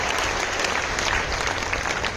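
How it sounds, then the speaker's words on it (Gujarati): A large crowd at a Koli community youth convention in Jalalpor, Navsari, breaks into loud, continuous applause welcoming the guests, filling the hall without any voices on top. "એકવાર જોરદાર તાળીના ગણગણથી મહેમાનોને આપણે વધાવી લઈએ"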